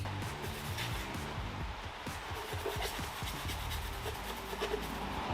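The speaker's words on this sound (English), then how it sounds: "I want to make sure I'm sanding away any glossy areas of this spoiler" Steady rough scraping and rubbing of sandpaper worked back and forth over a glossy car spoiler before priming, continuous and close.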